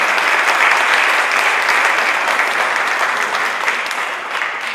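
An audience at a Rotary club meeting claps steadily and evenly, a dense close wash of hands that holds throughout and tapers only slightly toward the end.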